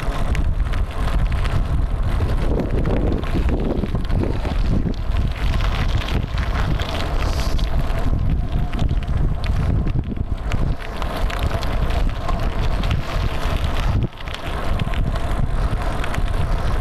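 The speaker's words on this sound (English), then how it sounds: "Big headwinds." A strong headwind roars steadily across the microphone while bicycling across Texas, a loud continuous buffeting rush that barely lets up for the whole stretch.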